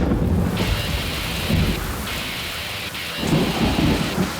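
Heavy thunderstorm with steady pouring rain and deep rolling thunder rumbles that swell and fade, loud and close throughout.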